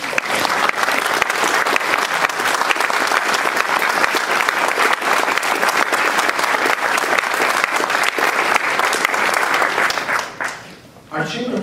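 Loud, sustained applause from a large audience at a city speech fills the room, dense and steady for several seconds before briefly dipping near the end.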